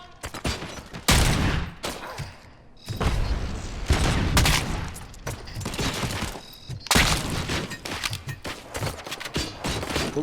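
Gunfire in RoboCop: Rogue City, dense bursts of rapid shots and booming impacts in repeated volleys, loud and close.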